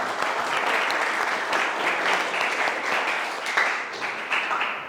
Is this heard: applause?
yes